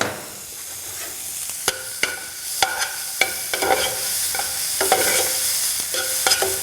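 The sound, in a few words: peppers frying in a pan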